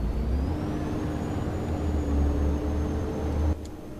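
A bus in the OMSI 2 simulator drives along with a steady low engine drone and a rising whine. A brief mechanical click or hiss near the end lowers the level slightly.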